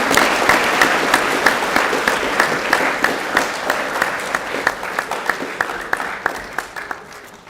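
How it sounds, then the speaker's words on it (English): Steady applause from an audience at a high school co-curricular prize giving, honouring the volleyball players, with dense clapping that keeps going for the whole stretch and thins slightly toward the end. "Round of applause for our volleyballers."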